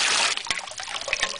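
Water pours steadily into a horse watering trough, a continuous near hiss and trickle with small splashy bursts, no voices.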